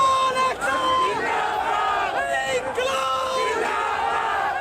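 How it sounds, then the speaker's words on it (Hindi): Hundreds of protesting farmers shout slogans in unison in the street, a loud rhythmic chorus of massed voices chanting in repeated bursts. "हुए उन्होंने खूब नारेबाजी भी की।"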